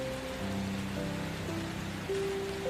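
Steady rain falling on a rural farm setting, a soft continuous hiss with patter, moderately faint and unbroken, along with some low tonal sounds; no one speaks.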